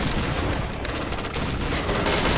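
Rapid overlapping gunfire from a shotgun in a zombie video game, a dense, loud, continuous barrage of blasts with no clear gaps between shots.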